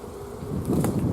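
Honeybees buzzing around hive frames while a small colony is moved into a five-frame nucleus hive, a close, steady low drone that swells slightly toward the end.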